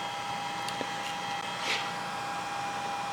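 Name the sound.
milling machine cutting a die block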